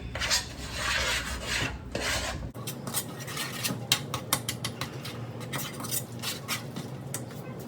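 A spoon stirs a mashed potato mixture in a pot, with a dull rushing patch first, then a run of rhythmic scraping and tapping strokes against the pot at close range.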